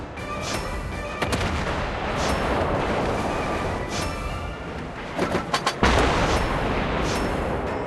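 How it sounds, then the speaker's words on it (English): Heavy naval gunfire from the battleship HMS Rodney in a video game, with continuous rumbling battle noise punctuated by a cluster of sharp, booming salvo blasts near the end. "And I missed the salvo completely."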